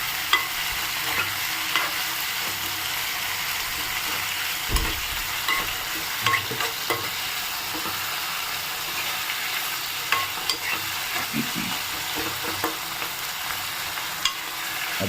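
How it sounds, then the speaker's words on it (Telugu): Tomato curry fries in a pan while it is stirred continuously, a dense, even sizzle with repeated scraping and tapping of the spoon against the pan throughout. "అది పచ్చివాసన పోయేంత వరకు కలుపుతూనే ఉండాలి"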